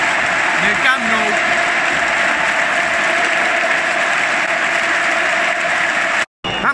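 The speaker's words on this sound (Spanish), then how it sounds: "Ovación por todo lo alto del Camp Nou." A full Camp Nou stadium crowd roars a sustained ovation as Andrés Iniesta leaves his last Barcelona–Real Madrid clásico, a broad, steady wall of cheering heard through a TV broadcast, with a brief voice near the start and a short dropout near the end.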